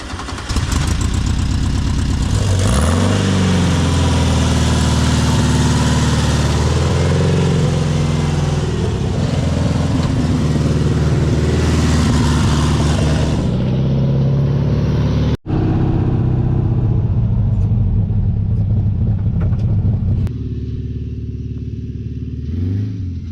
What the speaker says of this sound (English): So this Beetle now runs and drives amazing.